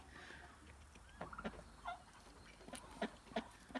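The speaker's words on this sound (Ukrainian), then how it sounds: "Такі наші малесенькі, гарненькі качечки." Rouen ducks, a calm breed, give scattered short quacks and calls at close to mid range over a steady outdoor farmyard background, with several bursts in the second half.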